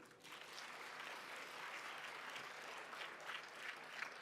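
Faint, steady applause from an audience at a forum reflecting on thirty years of South Africa's constitution, a continuous wash of clapping heard from a distance.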